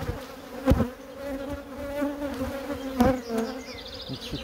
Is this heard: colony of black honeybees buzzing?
yes